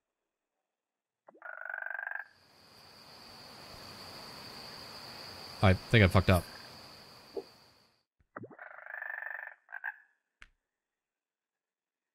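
A loud frog croaks in a Japanese horror game beside a fishing spot, giving rhythmic raspy calls in short bursts at the start and again near the end, with a clicking insect-like drone and sharp pulses in between; someone briefly speaks.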